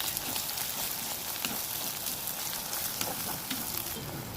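Onions cooked with salt and ginger garlic paste fry in a pan for a chicken curry, giving a close, even sizzle with scattered small pops and crackles and no voices.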